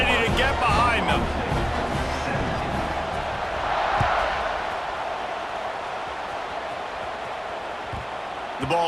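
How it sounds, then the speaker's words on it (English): A stadium crowd roars in EA Sports College Football 26 as a kickoff nears, a steady wash of cheering and babble that swells slightly midway and holds loud throughout. "this crowd now ready to get behind them"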